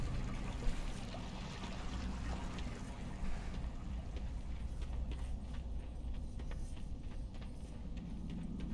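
Water flows steadily through a cave in World of Warcraft, a continuous rushing stream with light trickling texture that persists throughout at moderate loudness.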